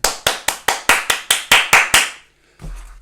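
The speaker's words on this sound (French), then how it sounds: "Applaudissez Angèle." About a dozen sharp, evenly spaced claps ring out in a quick steady rhythm, close and loud, then stop, followed by a low rumbling thump.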